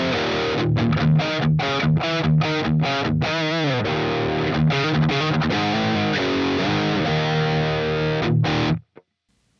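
A heavily distorted electric guitar played through a Neural DSP Quad Cortex amp preset with close-miked cabinet tone: loud, chugging palm-muted riffing with rhythmic stops, sustained chords, then an abrupt cutoff into silence.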